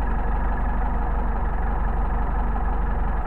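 A Mercedes 190SL engine fitted with Solex carburetors idles close by at a raised idle, a loud steady low rumble with an even rapid pulse throughout and no talking.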